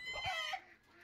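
Ornamental chickens and roosters in a coop cluck briefly and fairly faintly, a short burst of fowl calls fading out within a second.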